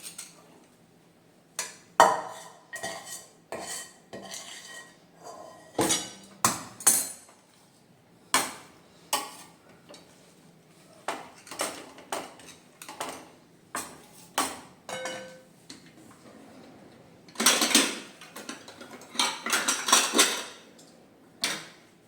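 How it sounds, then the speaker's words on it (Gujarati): Khajur pak mixture being poured and spread with a ghee-coated bowl across an oil-greased plate: repeated sharp clinks and scrapes of metal on metal, irregular and close, with no talking. "તેલથી ગ્રીસ કરેલી થાળીમાં આપણે એને ઠાલવી દઈશું અને એને પ્રોપર પાથરી દઈશું."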